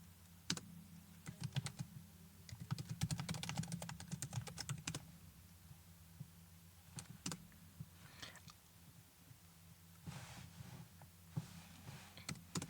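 Someone types a terminal command on a laptop keyboard, giving bursts of quick, faint key clicks with pauses between them. There is no talking.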